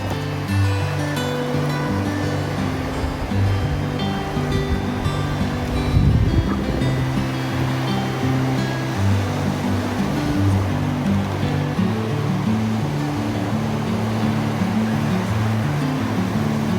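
Ocean surf at a South Padre Island beach on a calm, warm day, a steady continuous wash of waves with a low rumbling undertone and light wind, no voices.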